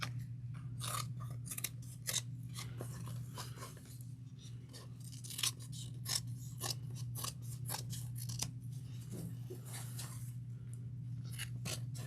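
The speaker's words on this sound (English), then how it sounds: "Trimming." Scissors snip and trim fabric for a handmade bag in a steady run of short, crisp cuts, close and moderately loud over a constant low hum.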